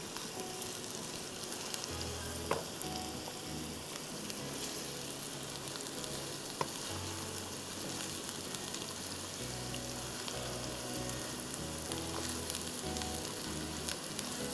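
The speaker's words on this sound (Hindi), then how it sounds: "अच्छी तरह से इसको हमें फ्राई करना है।" Something frying steadily in a pan for qeema, a soft continuous sizzle with faint clicks and low rumbling from the stove, moderately quiet and without voices.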